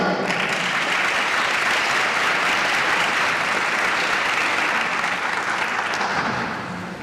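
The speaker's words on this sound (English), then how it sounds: "Let's give all our graduates another round of applause." Sustained applause from a graduation pinning ceremony crowd at Mercy College, steady and dense throughout, tapering slightly near the end.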